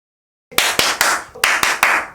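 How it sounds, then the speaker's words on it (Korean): Sharp hand claps, six in total, striking loud and close into a microphone in two uneven bursts of three after a moment of silence, made to test how a recording limiter holds back sudden peaks. "박수 소리로 한번 해보도록 하겠습니다"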